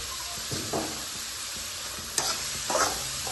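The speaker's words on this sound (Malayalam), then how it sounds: "നമുക്ക് നല്ലപോലെ വഴറ്റി എടുക്കണം" Vegetables sautéing in a pan with salt, a steady soft sizzle broken by a few scraping stirs of the spoon, close and moderately quiet, with no talking.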